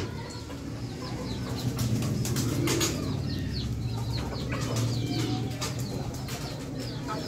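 Pigeons murmur and coo close by in a continuous low burble, mixed with scattered sharper bird sounds and light rustling.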